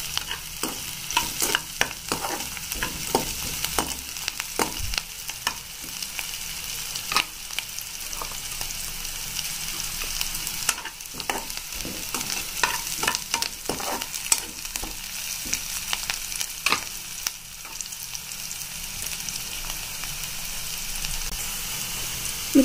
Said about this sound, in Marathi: इथं आपला छान प्रकारे कांदा फ्राय होतोय बघा तुम्ही।